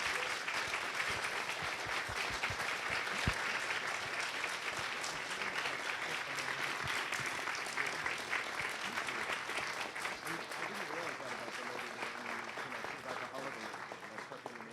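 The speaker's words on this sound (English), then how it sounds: "Can we give one last round of applause?" A crowd at a literary evening with novelists applauds in a sustained, even wave of clapping lasting many seconds, with voices murmuring beneath it.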